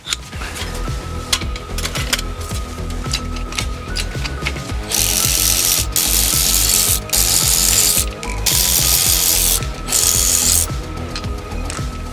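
A ratchet wrench removes wheel nuts from a Mazda, with dense, close clicking pawl ratchets and a few sharp, louder spinning bursts in the middle; no talking.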